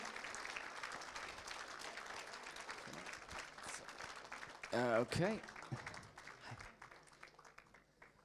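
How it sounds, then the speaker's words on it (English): Audience at the Spirit of Manchester Awards 2024 applauds nominees heading to the stage, a steady, fairly distant patter of clapping that thins toward the end, with a brief spoken word from the host partway through. "Keep the clapping going."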